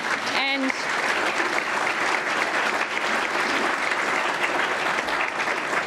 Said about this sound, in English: Yeah, I think we should give them a clap.